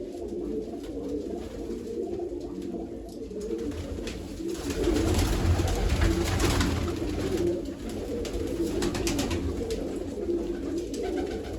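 Pigeons coo in low, repeated murmurs close by, over a steady background hum with some rustling.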